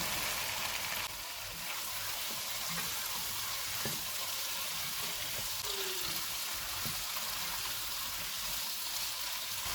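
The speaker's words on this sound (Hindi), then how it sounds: "500 ग्राम आलू डालेंगे। इनको 2 से 3 मिनट तक भूनेंगे।" Potatoes fry in a pan over a low-to-medium flame, giving a steady, continuous sizzle with a soft, even hiss that runs through the whole stretch without pause or talking.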